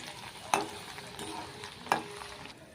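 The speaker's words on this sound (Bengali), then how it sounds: "এবার ওই তেলের মধ্যেই দিয়ে দেবো ছোলার ডাল" Chana dal frying in very hot oil, a faint steady sizzle broken by two sharper splashes or stirs spaced over a second apart.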